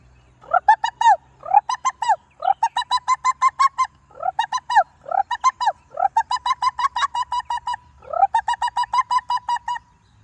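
A boy mimics a pigeon, producing repeated throaty cooing bursts in several rhythmic groups, each a quick series of hoots, loud and close.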